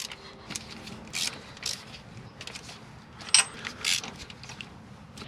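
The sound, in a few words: installing spark plugs in a 1972 Ford F-250 engine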